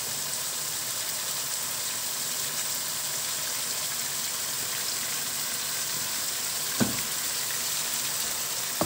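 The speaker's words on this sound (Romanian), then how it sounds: "carnea s-a prăjit" Meat frying in a pan for Szekely goulash, a steady broad sizzle that holds evenly throughout with a couple of brief clicks near the end and no talk.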